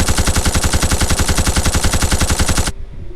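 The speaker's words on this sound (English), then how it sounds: "I call it the repeater arm cannon." A repeater arm cannon in the video game Dororo fires a rapid, evenly spaced stream of loud, close shots for nearly three seconds, then stops abruptly and leaves a faint ringing tail.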